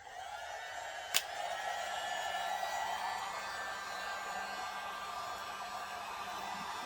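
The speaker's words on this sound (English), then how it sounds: "So we got our heat gun. I'm going to seal them up." A heat gun blows a steady, even hiss of hot air onto heat-shrink tubing on LED kit wiring for a Polaris Ranger, continuous and fairly close, with a brief click near the start.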